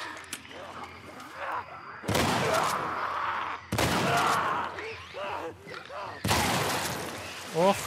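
Gunfire in The Last of Us Part 1 on the road to a hospital: three loud, close shots spaced a couple of seconds apart, each with a long ringing tail, with game sounds in between.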